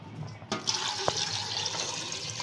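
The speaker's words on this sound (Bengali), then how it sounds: "এবার পানি দিয়ে দাও প্রেশার কুকারে।" Water splashes into a pressure cooker, starting with a sudden gush and then flowing in a steady, close stream with a brief sharper splash partway through. No voices are heard.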